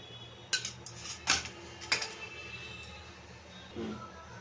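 A spoon clinking against a metal pot while ghee is added to paneer dum biryani, several sharp light metallic taps in quick succession, then a softer scrape.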